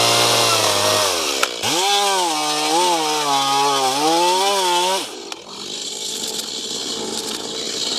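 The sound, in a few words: chainsaw plunge cutting into timber fence post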